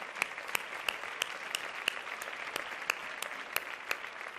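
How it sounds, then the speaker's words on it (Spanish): A theatre audience at a music awards gala claps in steady unison, sharp evenly spaced beats over a soft crowd wash, heard faint and distant. "Un fuerte aplauso para todos ellos."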